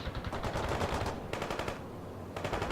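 Rapid machine-gun bursts in the World in Conflict video game, with dense clattering volleys, a short lull, then firing resumes, loud and close with no voices.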